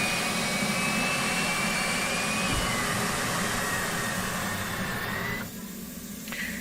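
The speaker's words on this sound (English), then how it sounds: "While that's spooling up, guys, let's go ahead and close this canopy because it's loud out there." An F/A-18C jet engine spools up in the DCS World flight simulator, a loud, steady turbine roar with a rising whine throughout, dropping in level near the end as if muffled by a closing canopy.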